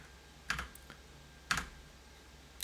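Mouse clicks placing trees in Enscape for Revit: two sharp, close clicks about a second apart, with a fainter third at the end, over quiet room hum.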